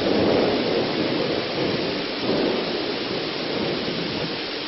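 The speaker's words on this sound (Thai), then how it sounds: "ฝนตกหนักเนาะไม่ค่อยได้เย็น" Heavy rain falls steadily with a low rumble of thunder swelling through it, a dense continuous wash with no voices.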